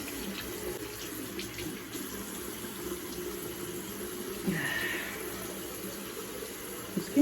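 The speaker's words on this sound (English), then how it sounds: "So first I'm just gonna use warm water." Warm water runs steadily from a bathroom tap for washing the face, a continuous hiss with a brief splashing change midway, close and alone without talk.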